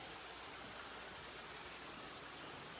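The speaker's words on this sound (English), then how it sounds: "the waterfall is very loud from here" Outside a house near Steamboat Springs, a waterfall water feature heard from a private deck makes a steady, dense rushing roar that does not change.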